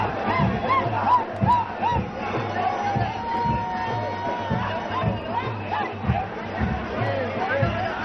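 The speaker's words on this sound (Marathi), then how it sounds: "आपण आता लालबाग मार्केटमध्ये आहोत आणि जल्लोषाला सुरुवात झालेली आहे" A large crowd celebrates at Lalbaug market at the start of the Lalbaugcha Raja Ganesh immersion procession, with dense cheering and shouting, rhythmic drum beats, and loud festive hubbub throughout.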